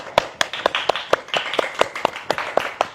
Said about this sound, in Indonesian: Kita harus tepuk tangan dulu, guys.